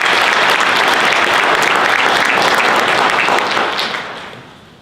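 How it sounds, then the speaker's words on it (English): Loud, sustained applause from a large crowd, dense and steady, fading out over the final second. "Brett Greenhall and Dr. Gary Zola, please give them a round of applause."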